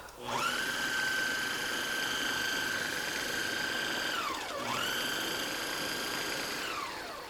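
A food processor pulses cookie crumbs and granulated sugar: a close, steady high motor whine that briefly dips in pitch midway, then picks back up and runs on.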